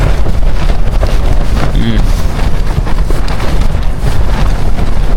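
Strong wind buffets the microphone in loud, continuous gusts outdoors in Mongolia, with a voice partly heard underneath.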